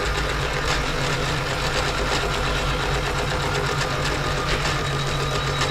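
An embroidery machine stitches a badge on stiffened badge fabric with a loud, continuous mechanical whirr and rapid needle chatter. The sound holds steady throughout, with no pauses.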